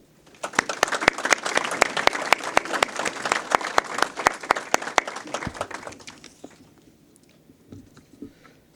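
Sustained applause from an audience welcoming honored guests at the Baltimore County Police Department's 150th anniversary ceremony, steady clapping for about six seconds before fading out to quiet room tone.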